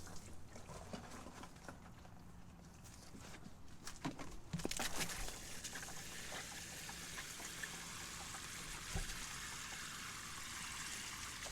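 Water poured onto a rose bush in a garden, a continuous soft trickling stream that grows fuller partway through, with a faint bird call in the background.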